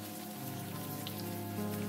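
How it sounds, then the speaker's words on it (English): Steady rain falls in the video game Unavowed, a dense, even hiss of drops spread across the whole clip alongside a low sustained hum of background music, with no voices. "You're obviously upset about something, and it's not just the rain."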